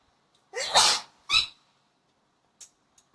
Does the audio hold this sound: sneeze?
yes